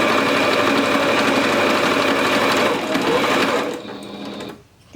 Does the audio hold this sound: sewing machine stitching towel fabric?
yes